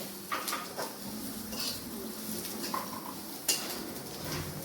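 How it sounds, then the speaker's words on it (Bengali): Ridge gourd and onion frying in a pan, with scattered metallic clinks of a utensil against cookware and a low steady background hiss, fairly quiet and close, no voices. "মাসি এই যে চিচিঙ্গা পেঁয়াজ ভাজছে এখানে"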